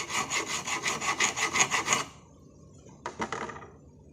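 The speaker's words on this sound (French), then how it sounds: "Lime queue de rat pardon." An auger bit being sharpened with a rat-tail file: about two seconds of fast, rhythmic rasping strokes, a short pause, then a shorter burst of filing, close and clear.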